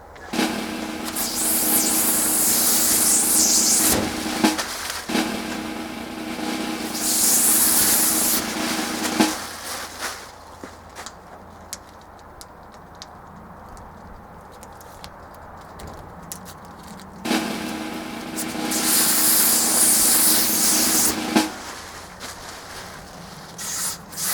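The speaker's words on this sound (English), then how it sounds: "Shall we rip off this protective coating and see what it looks like?" Protective film being peeled off new greenhouse windows on an allotment, heard as long loud ripping and scraping pulls, close by, with a quieter pause in the middle before more tearing, no voices.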